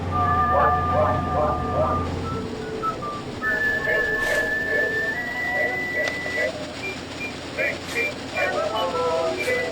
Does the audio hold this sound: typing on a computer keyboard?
no